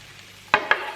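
Garlic and vegetables sizzle in a hot pan as two quick stirring scrapes cut through a soft frying hiss, close and brief.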